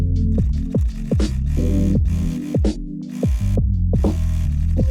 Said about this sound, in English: Then I sewed the sides of the headbands, both lining and the shell.